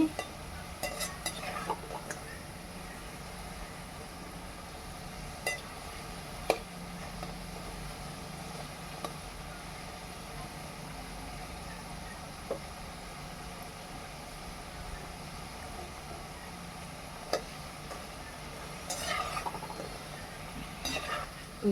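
Khurma sweets fry in hot oil while being stirred, giving a soft, steady low sizzle broken by a few sharp scrapes and clinks of the spatula against the pan.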